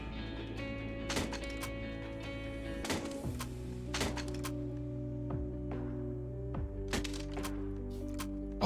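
Guns are thrown and dropped on the ground in CS:GO on the Overpass map, giving scattered sharp clacks and thuds over a quiet, steady ambient hum.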